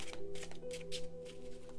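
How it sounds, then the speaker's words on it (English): Tarot cards being shuffled by hand, a quick close run of soft riffling flicks and taps over a low steady hum. "so now we're going to shuffle your little cards"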